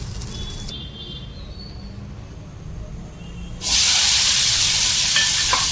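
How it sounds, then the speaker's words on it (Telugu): Chopped tomatoes fry in a pan for a fish curry, a soft low sizzle and stirring that suddenly swells into a loud, bright hiss about two-thirds through, with no talking. "ఇప్పుడు ఒక మూడు టమాటాలు కూడా కట్ చేసి ఫ్రై చేసుకున్నాం"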